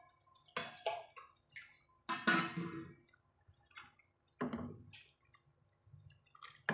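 Water poured into a pot of tamarind curry with bitter gourd and small onions, heard as a few separate splashing, dripping pours in short bursts, fairly close and moderately loud with quiet pauses between.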